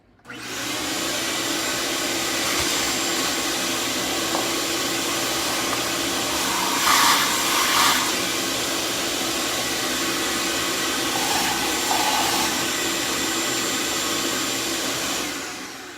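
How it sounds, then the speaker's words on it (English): A loud, steady workshop vacuum whine runs almost unbroken while cleaning a coffee grinder, with faint brief sucking changes partway through. "I'm just going to take this and I'm going to do a quick vacuum on this."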